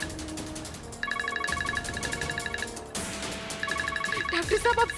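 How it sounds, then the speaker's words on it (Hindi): A phone ringtone chirps in repeated electronic bursts during a tense domestic argument in a Hindi TV drama, with people talking over the ringing. "जय का फोन।"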